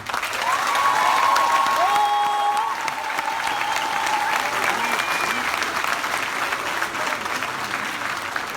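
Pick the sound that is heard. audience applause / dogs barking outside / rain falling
audience applause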